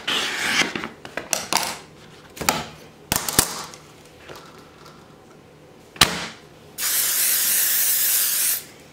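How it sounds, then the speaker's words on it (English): Scattered clicks and handling noises, then a loud steady hiss of a 505 adhesive aerosol can spraying cutaway embroidery stabilizer for about two seconds, up close. "I'm going to be using this 505 spray to spray the cutaway stabilizer"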